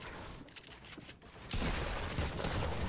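Fortnite gunfire as a rapid fusillade of shots, scattered cracks at first and then a sudden louder, dense burst of sustained firing that continues to the end, with no voices.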